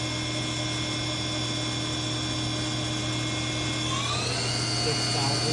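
A 1994 Haas VF-2 CNC vertical machining center runs its spindle at 4,500 RPM, a steady whining hum with a pitch shift near the end, close and continuous.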